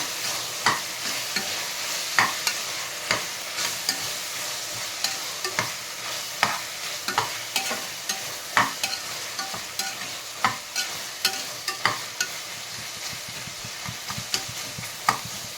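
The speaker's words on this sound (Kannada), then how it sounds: "ಅರಿಶಿನ ಹಾಕ್ಕೊಂಡು ಚೆನ್ನಾಗಿ ಮಿಕ್ಸ್ ಮಾಡೋಣ." A spoon stirs turmeric into a frying onion and tomato mixture in a pan, with repeated scraping strokes over a steady sizzle, close and alone.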